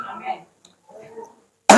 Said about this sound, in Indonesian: Sedikit batuk-batuk, saudara.